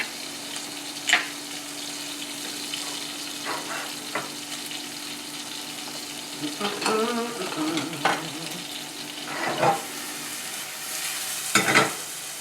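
Onions and garlic cook in a pan with a low, steady sizzle, broken by scattered stirring scrapes and a few sharper clatters of a utensil, heard up close without talk.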